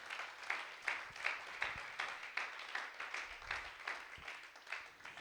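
Church congregation clapping in praise at a Sunday service, a fairly faint, steady patter of many hands with a few louder claps standing out, continuing for several seconds.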